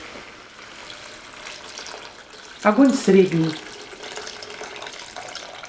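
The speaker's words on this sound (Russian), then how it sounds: "Добавляем воду." Boiled water splashes from a kettle into a pot of stewed vegetables for Uzbek mastava soup, a short gurgling pour of a couple of seconds amid quiet kitchen sounds, while someone speaks.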